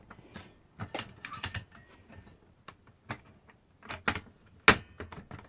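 Plastic replacement cartridge connector being worked into place inside an NES console, a scattered run of close, dry clicks, taps and scrapes with a few sharper snaps near the end, no talk.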